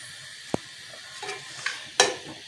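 Handi biryani stirred and mixed in a pot, with a few brief scraping and clanking strokes of a spoon against the pot over a soft background hiss, ending in a sharper scrape near the end.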